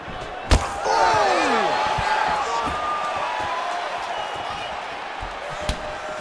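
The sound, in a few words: crowd cheering in a video game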